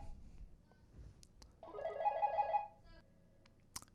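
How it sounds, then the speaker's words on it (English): Telephone ringing in the middle of a classroom presentation, a brief electronic ring burst heard at moderate distance in a quiet room, with faint knocks before and after. "Phone call in the middle of my presentation."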